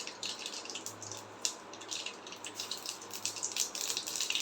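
Mustard seeds crackle and spit in hot oil while tempering a Tamil-style tomato pickle, a dense run of small sharp pops close by, rising and falling in bursts over a faint low hum.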